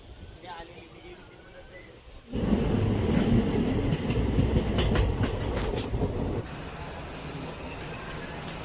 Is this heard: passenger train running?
yes